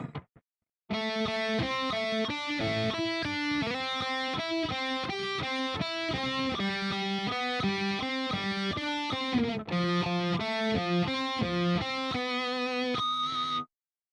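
Guitar playing a lesson part slowly from start to finish, a continuous stream of evenly paced, distorted-sounding notes, close and alone for most of the passage.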